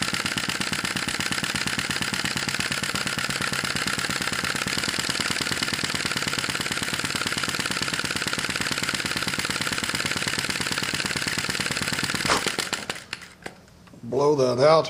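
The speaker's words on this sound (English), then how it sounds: "This is a typical speed for this engine." A Sai Hu V1-45 vacuum flame-licker engine runs at its typical speed, a rapid, even mechanical chatter, close and steady, with a voice speaking over it before the running sound cuts off near the end.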